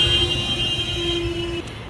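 A car horn blares in one long sustained honk at a busy roundabout during a street protest in Lima, over a bed of traffic rumble, then cuts off near the end.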